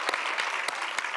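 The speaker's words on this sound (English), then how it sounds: "Oh, I shouldn't be clapping" Audience applause at a campus leadership talk, a steady wash of clapping with a few sharper individual claps standing out, moderately loud and without speech.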